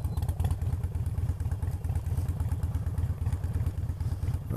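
A motorcycle descends a steep dirt ridge trail with the engine braking, throttle closed, producing a steady loud throbbing, clattering engine note close by for the whole stretch, with no talking.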